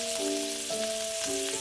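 Steady sizzling of scampi frying in hot oil over high heat, a constant crackling hiss with a faint tonal hum running underneath.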